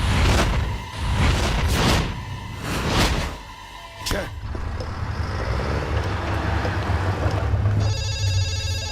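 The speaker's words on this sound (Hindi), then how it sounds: "कल्लू भाव का फोन है।" A telephone ringtone starts up partway through, a repeating electronic ring pattern following several loud whooshing swishes and low rumbling in a dramatic film scene.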